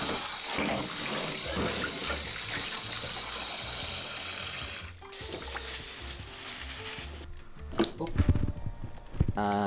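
Tap water runs steadily into a kitchen sink during dishwashing, a constant close rush with clinks and knocks of dishes toward the end, while a voice talks over it.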